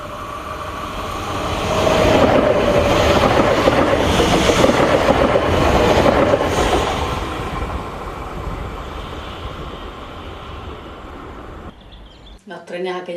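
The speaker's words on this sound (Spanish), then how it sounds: "Los trenes, aquellos vagones que vienen de madera" A passing train with wooden wagons rumbles on the rails, a broad steady roar that swells and then slowly fades, with a brief voice at the very end.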